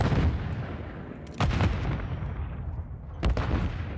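Heavy gunfire in a ranked multiplayer shooter game: loud, close shots with booming low end, a burst at the start and sharp reports around the middle and near the end over a continuous noisy background.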